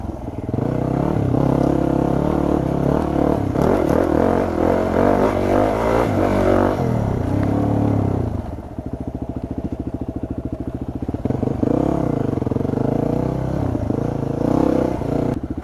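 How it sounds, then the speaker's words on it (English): A motorcycle engine roars close and loud while riding, revving hard, easing off into a rough lower burble, then building again, with no talk over it. "Oh god, I love the sound of my bike."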